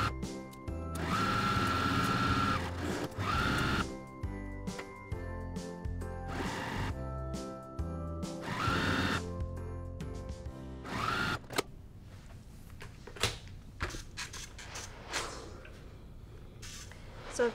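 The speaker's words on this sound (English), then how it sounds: "we can go to the sewing machine" A domestic sewing machine stitches quilt block pieces in a series of whirring bursts of a few seconds each, then gives way to softer handling clicks and rustles near the end.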